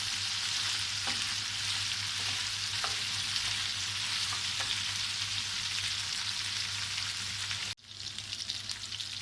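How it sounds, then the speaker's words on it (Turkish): Chicken and vegetables sizzle steadily in a pan as they are stir-fried, a loud continuous hiss with occasional utensil scrapes and a brief break near the end, heard close and alone. "Aynı şekilde karıştıra karıştıra kavurmaya devam ediyorum."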